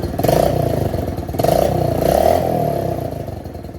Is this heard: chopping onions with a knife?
no